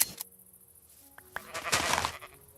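Sheep bleating in the Minecraft Skyblock video game: a couple of short, clear bleats that rise to a louder, noisier cry near the end, with a few quiet game clicks between them.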